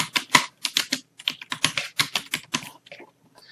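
Computer keyboard being typed on to enter a profile name, a close burst of quick irregular key clicks that slows and fades toward the end, with no voices.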